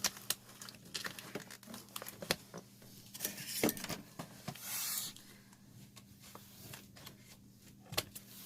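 Crinkling plastic wrap being torn open on a large roll of dark pink fabric ribbon, with scattered close rustles, crackles and small taps at a low, intimate level, no talking.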